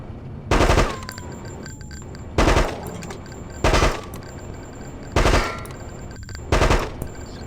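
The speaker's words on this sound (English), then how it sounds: "And load our submachine gun" A submachine gun fires in Hitman: Codename 47, five loud, evenly spaced bursts of rapid shots, each cut short and followed by a brief pause.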